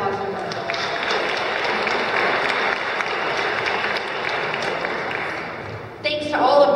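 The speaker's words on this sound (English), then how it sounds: "So big round of applause for her." Steady applause fills an indoor city hall atrium at an International Women's Day event, a dense crowd clapping that holds level for several seconds before louder clapping and voices swell at the end.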